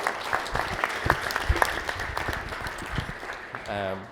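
Wedding guests clap and cheer during a reception speech, a dense, steady burst of applause with scattered whoops, ending as a voice starts speaking near the close.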